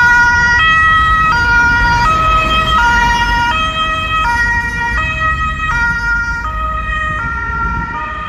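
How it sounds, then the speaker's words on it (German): A German emergency vehicle siren (Martinshorn) with blue lights at Stuttgart's Gebhard-Müller-Platz underpass, loud and close, with two-tone wails alternating steadily over road traffic rumble and fading slightly toward the end. "standesgemäß mit Blaulicht und Martinshorn."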